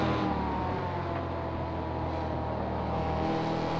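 A Mustang race car engine in a racing video game on the Mid-Ohio chicane course, droning steadily at high revs throughout, fairly close and without talk.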